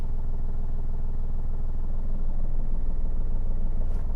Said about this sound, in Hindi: गाड़ी का साउंड